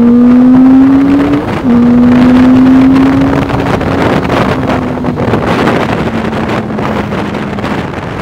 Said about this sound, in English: So this is what you get out of this bike once you open the throttle.